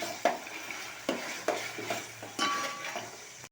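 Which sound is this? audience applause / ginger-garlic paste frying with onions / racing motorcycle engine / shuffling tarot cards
ginger-garlic paste frying with onions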